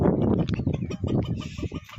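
Free-range country chickens on a village farm give several close, short clucks in quick succession, and no one speaks.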